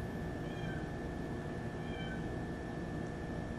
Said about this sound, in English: she meows as if to let you know her presence